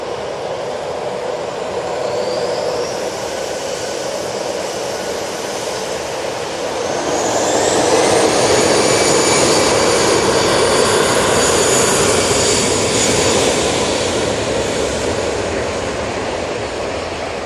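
Airbus A319 jet passing at Manchester Airport, a broad roaring engine rush that swells louder midway and stays strong before easing slightly, with a rising whine sweeping across the upper range.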